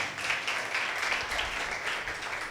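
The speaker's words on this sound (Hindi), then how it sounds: "जोरदार तालियां।" A church congregation at a Sunday service breaks into loud, sustained applause, dense rapid clapping that fills the room evenly throughout with a few voices mixed in.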